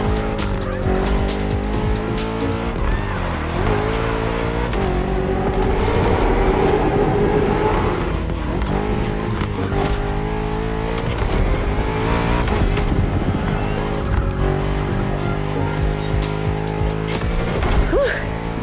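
A BMW M5 F90 CS races through traffic in The Crew Motorfest racing game, its engine roaring steadily with shifting gear pitches, tire squeals and passing traffic, with music layered throughout.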